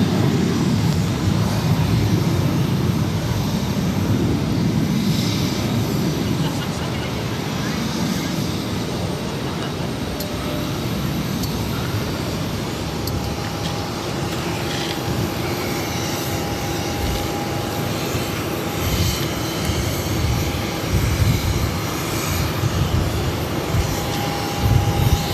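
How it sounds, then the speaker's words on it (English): A Delta Airlines Airbus A321 takes off from Boston Logan, its engines giving a sustained broad roar that swells and lingers, heard from a distance with faint voices at times. "This is Delta Airlines 963 taking off to Atlanta on the"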